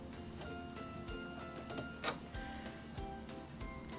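A SINGER Fashion Mate 3333 sewing machine runs a zigzag stitch, its motor whirring steadily while a fast, regular ticking of the needle mechanism repeats close by.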